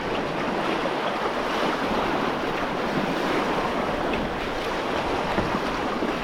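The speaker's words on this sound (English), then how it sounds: "It feels good to get a little splash on the boat." River water rushes and splashes against a kayak on the wild Sacramento River, a steady broadband wash with wind noise on the microphone throughout.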